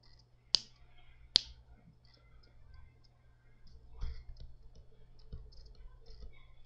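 Two crisp, close computer mouse clicks sound on the login screen of the video game DDtank, followed by faint scattered taps and soft handling noise under a low hum.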